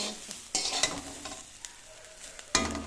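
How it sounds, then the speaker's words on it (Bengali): Bottle gourd peels frying in a pan, a steady sizzle broken by sharp scraping stirs near the start and again near the end, close and clear with no talking. "শুরু করে রেখেছি আর এভাবে নাড়ছি"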